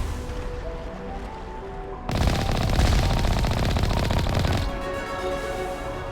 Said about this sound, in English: The cannon sounds sick.